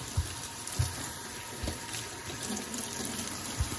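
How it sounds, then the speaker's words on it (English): Tap water gushes steadily into a sink while a lime, lemon and orange are rinsed under it, with a few brief knocks and handling bumps over the continuous close stream. "So I'm washing everything, my lime, lemon,"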